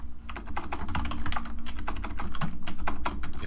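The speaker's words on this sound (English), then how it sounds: "If I can remember how to type" Rapid, steady typing on a computer keyboard, close and fairly loud, a continuous clatter of keystrokes with no speech.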